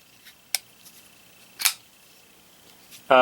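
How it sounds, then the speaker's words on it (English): A Schrade folding knife from a budget holiday pack is flicked open, giving a few sharp separate snaps spread across a quiet background, one last click at the end. "Flip it. You can do it with a wrist flick, which I know a lot of people do."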